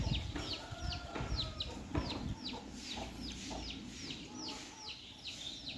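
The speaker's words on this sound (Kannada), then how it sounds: "ಈ ಕೋಳಿಗಳಿಗೆ ಏನಾದರೂ ಮೇವು ಹಾಕಿದ್ರು ನೋಡಿ ನೋಡಿ ಯಾವ ಥರ ಅವುಗಳನ್ನ ಎದುರಿಸ್ತಾ ಇರ್ತವೆ" Chickens cluck busily while being fed, with many short, repeated clucks overlapping at a moderate distance and no talking.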